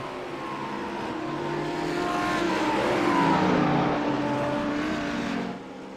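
Audi GT3 race cars lapping Silverstone in a sim racing game during a GT3 mini enduro, their engines droning steadily with rising and falling pitch, swelling louder mid-way and easing off near the end, with no talk.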